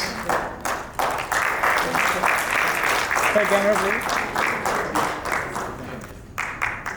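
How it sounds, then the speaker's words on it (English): An audience at a sustainability conference applauds as the keynote speaker is called to the stage, dense steady clapping filling the room, with a brief spoken voice partway through. "A big round of applause, please."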